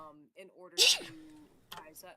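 One sharp, close sneeze bursts out briefly amid casual conversation, with people speaking just before and after it.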